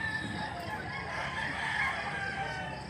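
A young rooster (stag) at a rural market in Mantalungon, Cebu, crowing as a single steady call that runs through the clip, close and moderately loud over a busy outdoor background.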